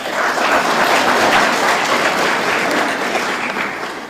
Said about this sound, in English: I think they deserve a hand clap.